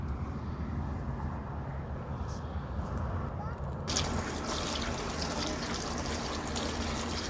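Hot water pours steadily into a vessel while radishes are prepared for paratha, a continuous rushing splash that grows brighter and louder partway through, over a constant background hum.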